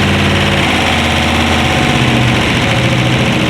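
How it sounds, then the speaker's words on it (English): A BMW E46 with an LS V8 swap and unequal-length CTS exhaust manifolds idles with a loud, steady, slightly uneven low rumble that runs unbroken throughout, with no talking. "So the exhaust should sound a little bit funky"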